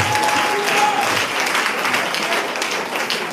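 A church congregation applauds and cheers together for several seconds, a dense, loud and steady wash of clapping, with faint voices mixed in.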